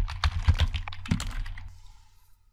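Rapid keystrokes clatter on a computer keyboard as Python code is typed in a Jupyter notebook, close and crisp at first, then trailing off into quieter taps.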